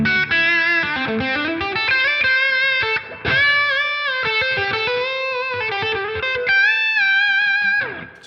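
Electric guitar played through a Line 6 Helix overdrive/distortion model, with the tone darkened. A run of distorted notes and chords, sustained and loud, with brief choppy pauses between phrases and a short gap near the middle.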